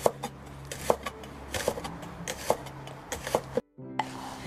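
Knife slicing vegetables fairly thin on a cutting board while preparing Vietnamese bánh xèo, with repeated sharp chopping taps at an uneven rhythm, close and moderately loud, followed by a brief silent gap.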